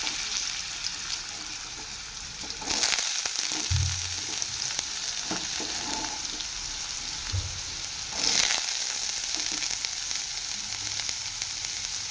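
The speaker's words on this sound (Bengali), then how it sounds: "একটু নেড়ে ছেড়ে দেবো যাতে ফোড়নটা ঠিকঠাক ভাজা হয়ে যায়" Whole spices and a dried red chili sizzle in hot oil in a pan for a tempering, a steady close hiss broken by two louder surges and a few soft stirring knocks.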